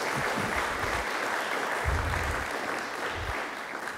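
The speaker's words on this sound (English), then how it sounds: "Let's give them all a round of applause" An audience at an alumni awards ceremony claps in dense, sustained applause, loud and even for several seconds, with a few low thumps scattered through it.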